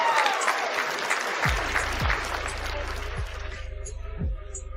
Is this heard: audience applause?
yes